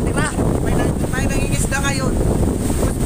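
Strong typhoon wind batters the microphone in a loud, continuous roar at night during Typhoon Odette, with a voice speaking through it.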